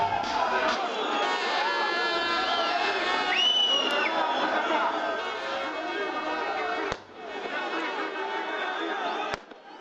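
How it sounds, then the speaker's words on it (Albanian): A protest crowd presses against a police cordon outside a parliament building, a dense, continuous roar of many voices with shouts and whistles, loud and sustained, dropping briefly near the end before surging back. "pati tentativa të vazhdueshme të turmës për të çarë kordonin e policisë përpara kuvendit"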